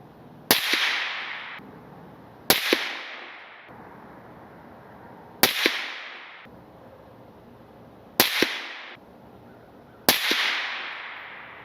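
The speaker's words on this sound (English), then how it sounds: "I fired a 5 rounds of 168 grain Hornady ELD match" A suppressed Tikka rifle fires five rounds of 168 grain Hornady ELD Match with an Energetic Armament Vox S suppressor, five sharp cracks spaced two to three seconds apart, each trailing off in a short outdoor echo.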